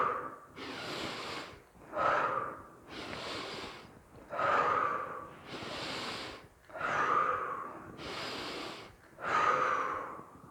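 Deep, audible breaths during a yoga flow, slow rhythmic cycles of inhaling and exhaling close to the mic, about five even breaths with no talking.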